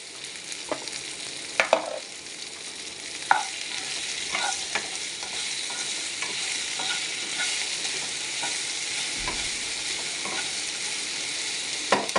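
Curry leaves sizzle in hot oil with sliced okra in a pan, a steady close frying hiss broken by scattered clicks and scrapes of stirring, with no voices.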